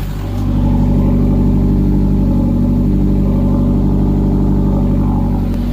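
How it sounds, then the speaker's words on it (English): A loud car engine with a straight-pipe, muffler-delete exhaust idles steadily with a deep, rumbling note and a constant mechanical ticking from both heads running through it, close by and uninterrupted. "It's a really bad ticking on each head, this side and that side."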